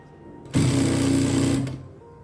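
An electric sewing machine runs one steady burst of about a second, stitching a hook strip onto cloth with a close, buzzing rattle, then winds down and stops.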